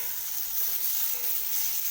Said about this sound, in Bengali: এরপর আমি ফুলকপিটা আর আলুটাকে দিয়ে দেব